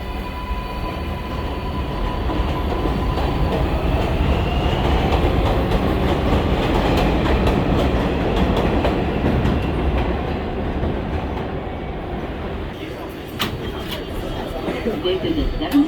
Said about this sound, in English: This is a 74th Street Broadway bound 7 local train.